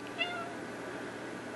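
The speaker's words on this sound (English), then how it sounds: "Don't just meow if you're not going to" A single short cat meow, soft and close, followed by quiet room noise.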